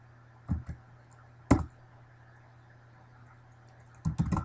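A computer keyboard clicks quietly in a quiet room as a short command is entered, with three small clusters of keystrokes separated by pauses.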